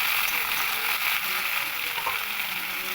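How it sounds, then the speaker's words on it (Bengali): Browned potatoes and raw green banana pieces frying together in a pan, giving a continuous, fairly loud crackling sizzle that holds steady without any speech. "আলুগুলো আমার একটু লাল লাল করে ভাজা করা হয়ে গেছে। এবার আমি কাঁচকলাগুলোকে দিয়ে"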